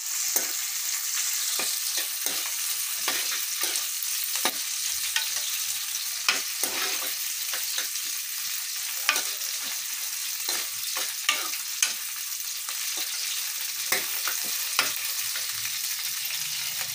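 Green chillies and mint frying in oil, a steady crackling sizzle broken by frequent sharp pops and spatters, close and continuous with no voices.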